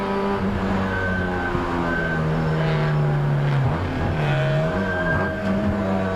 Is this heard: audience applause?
no